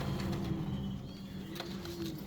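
A pair of white Lakka pigeons coo softly at a breeding farm, low soft calls repeating steadily over a faint background hum, with a brief flutter near the end.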